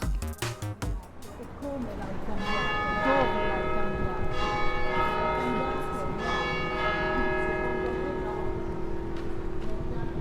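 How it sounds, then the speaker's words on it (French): Church bells ring out over Place Saint-François in Lausanne, several bells sounding in overlapping, resonant strokes that sustain and decay, fairly close and loud, with faint background ambience and no talk. "Nous venons d'entendre les cloches de l'église sonner."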